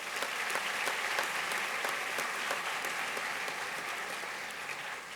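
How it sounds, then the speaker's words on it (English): A large audience applauds award nominees at the 2025 DCS Awards ceremony: dense, steady clapping that holds at an even level for about five seconds, with no voices on top. "Let's give them a big round of applause."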